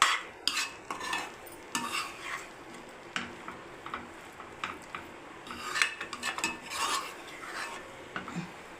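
A spatula scrapes and stirs bread egg kothu around a pan in repeated clinking, rasping strokes, close by and uneven in rhythm, with no talking.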